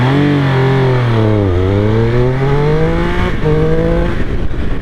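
A 2021 Triumph Speed Triple 1200 RS launches hard, its engine note climbing steeply through two quick gear changes, loud, close and continuous.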